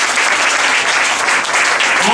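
Congregation applauding Jesus during a Spanish-language church sermon, a dense, steady wash of clapping that fills the space throughout without a break.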